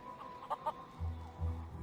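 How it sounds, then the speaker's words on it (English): Feral chicken in The Curse of Monkey Island game, a couple of quick clucks followed by lower throaty burbling notes, faint and close over a quiet background. "Plunder Island feral chicken, one of Plunder Island's most common fauna"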